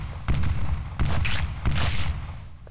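Three blunderbuss shots from the video game Deathtrap Dungeon fire about a second apart, each a loud, booming blast with a short rumbling decay.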